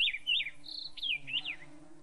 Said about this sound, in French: Des oiseaux chantonnent et volettent dans les hauteurs.